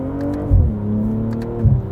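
A 2022 BMW M240i engine revs up in two quick blips during downshifts, a steady close-miked drone with two brief louder surges, no talking.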